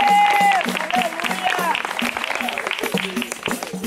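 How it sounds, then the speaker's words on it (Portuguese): Clapping rises from a congregation at an evangelistic crusade in a Brazilian neighbourhood, brisk and close, with tonal sounds and voices mixed in throughout. "Quem paga uma salva de palmas, aleluia."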